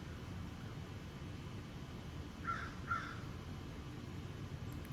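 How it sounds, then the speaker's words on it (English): Two crows caw in quick succession against a steady background hiss, a short pair of calls at moderate distance. "And here go the crows."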